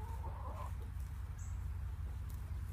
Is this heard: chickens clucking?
yes